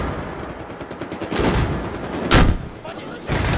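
Several sharp gunshots crack out in Battlefield, with three loud bursts spaced about a second apart over a noisy game background.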